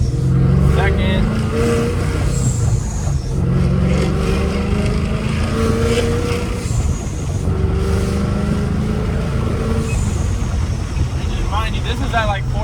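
Supercharged Ford Mustang GT engine and exhaust running loud and steady near 4,000 RPM through a downshift, heard from inside the car as a continuous close drone with a speaking voice over it.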